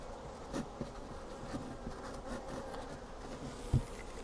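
Bees buzz continuously in a dense, droning hum, with occasional soft knocks and clicks nearby.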